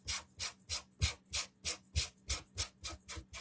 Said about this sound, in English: I like to sand absolutely everything.